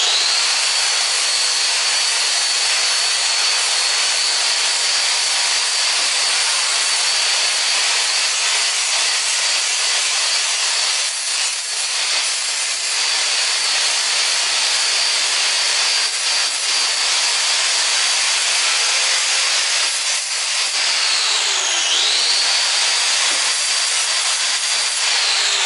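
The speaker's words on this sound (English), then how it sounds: "This tool is called an angle grinder. It is an abrasive wheel that rotates horizontally." An angle grinder's abrasive wheel grinds against metal for a sculpture, giving a continuous, loud, harsh hiss with a steady high whine that briefly dips in pitch near the end, with no talking.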